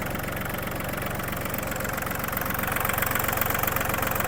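An Iseki TU-217 Japanese mini tractor engine idles close by with a rapid, even, chugging diesel-like pulse that grows slightly louder toward the end, with no talking.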